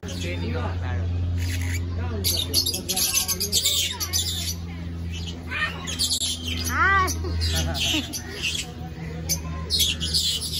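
Many parrots and lovebirds chirp and squawk busily in a chattering mix at a zoo, with people talking nearby under a steady low hum.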